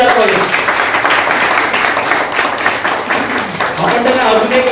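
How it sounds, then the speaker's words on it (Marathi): An audience at a World Nurses' Day award ceremony claps loudly and continuously for an honoured nurse, with voices audible through the applause. "एकदा जोरदार टाळ्या त्यांच्यासाठी द्यायला पाहिजे."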